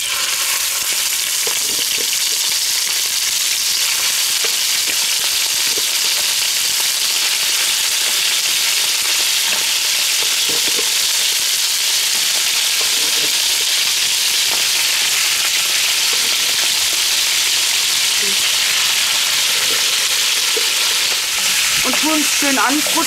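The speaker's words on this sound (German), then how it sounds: "Schön anbrutzeln, anbraten." Steady, loud sizzling of goulash meat frying in lard in a Dutch oven, a continuous crackling hiss with occasional faint clinks, no talking.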